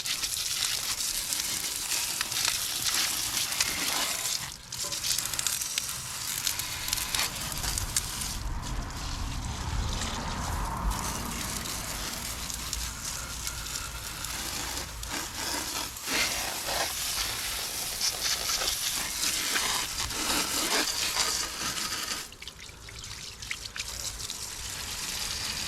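Garden hose spraying water over the engine of a 1976 Harley-Davidson Shovelhead motorcycle being washed and degreased, a steady hissing, splashing spray that runs almost continuously with a few brief breaks.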